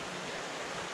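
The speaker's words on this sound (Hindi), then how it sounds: "आप ये वाटर स्ट्रीम देख सकते हैं" A water stream flowing toward a waterfall near Jawhar: a steady, soft broadband rush of running water, quiet and continuous, with no voices.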